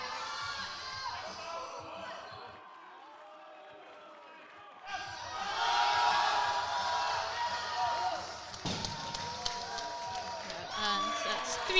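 Crowd at a varsity powerlifting competition between Oxford and Cambridge, rising into sustained loud cheering and shouting for a lifter's deadlift, with an announcer speaking over it.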